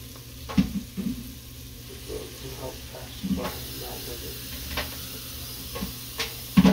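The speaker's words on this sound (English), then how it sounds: "So I like making the roux, like having something better to help melt the butter." Butter melting in a pan for a roux for cream stew, a soft steady sizzle with occasional stirring scrapes and clinks close by.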